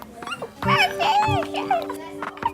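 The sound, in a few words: child imitating a dog barking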